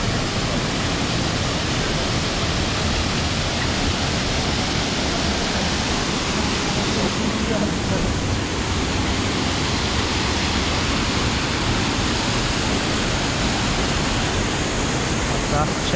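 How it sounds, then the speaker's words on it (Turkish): A waterfall in Sapadere Canyon, Alanya, roars as a steady, dense rush of falling water, loud and unbroken throughout. "Ve şelale."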